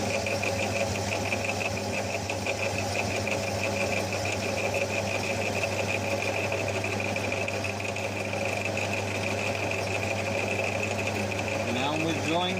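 A lathe tool cuts a radius on a part for a 7¼-inch gauge BR Standard Class 4 4-6-0 tender locomotive, giving a steady, continuous machining drone with a constant hum throughout.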